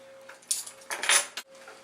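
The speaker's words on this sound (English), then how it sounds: "Make sure you stir that in nicely." A metal spoon stirring coriander powder into a paneer tikka masala sauce in a pot, a few close scraping clinks and knocks against the pan in short bursts over a low steady hum, no talking.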